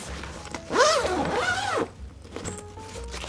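A zipper runs along a pocket on a suitcase lid in two quick close sweeps, each rising and falling in pitch, then stops. A quieter rustle of handling follows.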